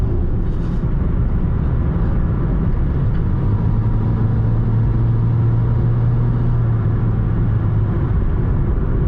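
Toyota Yaris with a four-speed automatic, its engine droning loudly and steadily from inside the cabin while driving, a low rumble with a rising hum partway through.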